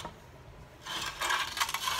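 Glue being peeled and scraped off a Makita circular saw makes a quiet stretch, then a harsher rasping and rubbing that starts near the middle and keeps going in uneven strokes, close by.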